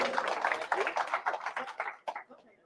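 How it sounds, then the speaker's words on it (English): Small crowd clapping at a live fishing-tournament awards ceremony, a loose burst of claps that thins out into a few scattered final claps, with voices mixed in. "Yeah, round of applause."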